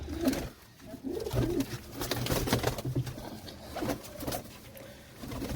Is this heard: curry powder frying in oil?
no